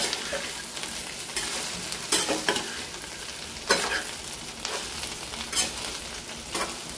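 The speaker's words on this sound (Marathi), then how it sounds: "आता याला छान मिक्स करून घ्यायची. सर्व एकत्र करून घ्यायचे." Sliced okra stirred in a pan over low heat, a steady soft sizzle with repeated scraping strokes of the spoon at intervals; no voices.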